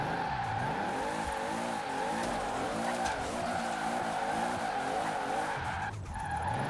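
A heavily modified, turbocharged 1600-horsepower Toyota GT86 in Forza Horizon 4 screams along with a loud, steady engine drone that wavers in pitch while tires squeal and skid continuously, with a brief dip near the end.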